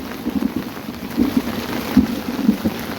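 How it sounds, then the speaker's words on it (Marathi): Steady rain from a storm in coastal Konkan during a night of catching fish as they swim upstream, with soft low rumbles of thunder beneath a continuous hiss. "तुम्हाला आवाज देखील येत असेल ढगांचा गडगडाचा आवाज येत असेल"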